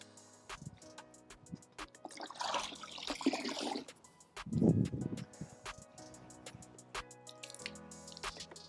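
A wet sponge drips and squishes during a rinseless car wash, with irregular close drips, a louder squeeze around the middle, and quiet gaps between.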